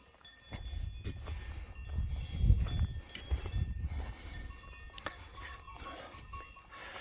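Goats moving closer outdoors, with scattered bleats, shuffling hooves and a faint clanking bell, rising toward the middle then settling into steady rustling.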